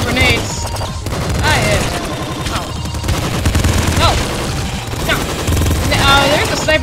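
Dense, rapid gunfire and grenade blasts from the video game Nuclear Throne, played in hard mode, fill the clip continuously and loudly, with talk mixed in.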